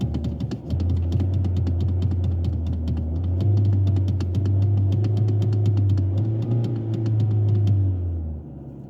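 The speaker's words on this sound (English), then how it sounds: "I'm just gonna continuously hit the accelerator pedal as fast as I can." A Chevy Sonic with lean codes and an overheating problem, its engine revved by rapid repeated accelerator presses; a steady close rumble with quick rises and falls that stops abruptly near the end, with no talk.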